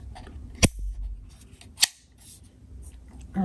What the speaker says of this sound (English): The prongs just flip out.